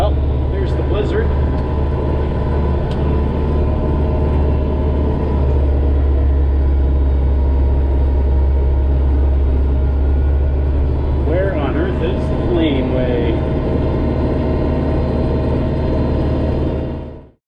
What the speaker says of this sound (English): you hear the tractor? It's working now.